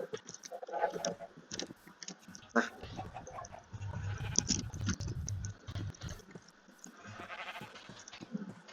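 Minecraft sheep bleating several times at moderate distance, short wavering calls scattered over a quiet background with soft footstep-like ticks.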